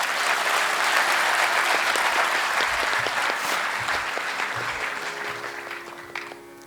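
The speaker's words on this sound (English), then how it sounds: "Can we clap for it?" An audience breaks into loud, dense clapping at a kirtan gathering, the applause holding strong at first and then gradually thinning and fading toward the end.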